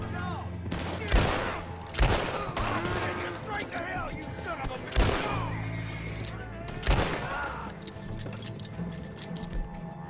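LeMat revolver from Red Dead Redemption 2 firing, several loud sharp shots spaced a second or more apart, under game ambience and faint clinking, with someone talking between shots.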